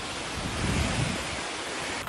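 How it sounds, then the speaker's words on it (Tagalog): Strong typhoon wind and surf batter the coast of Palawan in a continuous roar. A heavier surge of waves swells briefly in the middle before easing back into the steady rush. "Nagdala ang bagyo ng malakas na ulan na may kasamang matinding hampas ng hangin."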